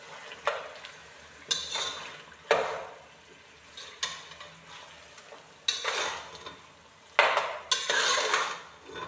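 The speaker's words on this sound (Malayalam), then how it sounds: "മസാലയൊക്കെ എല്ലാവർക്കും എത്തുന്ന രീതിയിലൊന്ന് ഇറക്കി മിക്സാക്കി കൊടുത്തിട്ട് ഒന്ന് മൂടി വെക്കാം" Marinated chicken being stirred into onion and garlic masala in a pan, a spoon scraping and clinking in several separate bursts with faint sizzling between them, close and moderately loud, with no voices.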